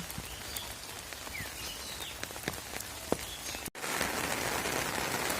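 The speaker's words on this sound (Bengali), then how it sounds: "তো বৃষ্টি আল্লাহর রহমতে খুব ভালো বৃষ্টি পড়তে আছে।" Steady rain falls over a village, a dense wash of drops pattering on surfaces with a few sharper nearby drips and faint bird calls, continuing throughout with no talk.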